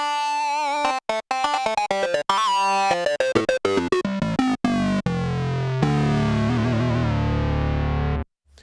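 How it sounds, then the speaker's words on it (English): A fat, warm analog synthesizer sync preset plays a loud, distorted lead line, with choppy staccato stabs at first giving way to sustained, sweeping notes that cut off abruptly near the end. "Really fat analog sync sound there."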